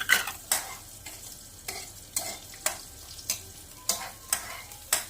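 Onions are stirred in a pan in about ten regular sharp scraping strokes over a soft sizzle, close by and without talk.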